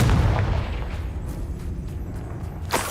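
A Confringo blasting spell detonates in the Hogwarts Legacy game, a heavy low boom at the start that rolls into a rumbling decay, with a brief sharper crack near the end.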